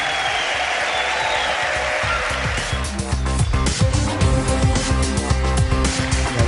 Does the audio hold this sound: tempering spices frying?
no